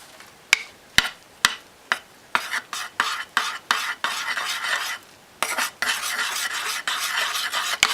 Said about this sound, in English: I'm going to have to stir this up really, really good